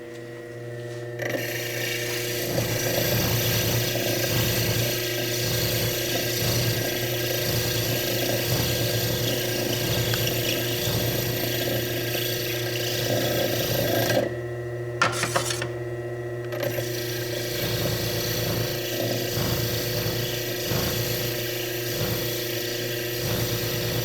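Steady mechanical whirring of a rotating tool smoothing and pre-polishing a sphere, running continuously and fairly loud with a faint hum, broken by a brief pause near the end before resuming.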